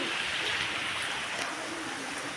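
A constant, soft wash of heavy rain pours down steadily, a dense hiss with faint splashing and no voices.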